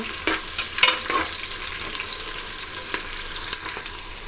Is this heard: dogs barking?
no